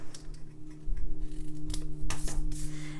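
Scissors snip through scrap paper at an angle for a snowflake card, making a few quiet, crisp cuts over a low background hum.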